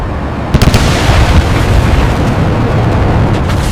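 A missile strike on an aircraft hits as a loud sudden blast, followed by a sustained rumbling roar that fills the rest of the moment with no voices.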